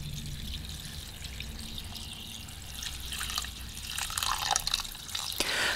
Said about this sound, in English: add in some hot tap water